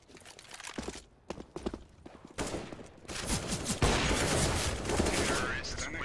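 Counter-Strike gunfire on Dust2, rapid bursts of sharp shots, sparse and clipped at first, then a dense, sustained volley of fire in the second half.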